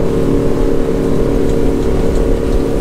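A 2008 Four Winns SL 262 motorboat accelerates under load on open water, its engine giving a steady, loud, close drone over constant water rush, with no talk.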